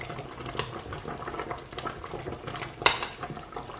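Tomato paste being stirred into a simmering Ghanaian chicken light soup made with fresh tomatoes, with soft scraping and bubbling in the pot and one sharp clink of the utensil near the end.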